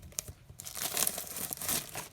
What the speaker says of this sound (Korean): 쏙쏙쏙 비닐을 벗겨줍니다.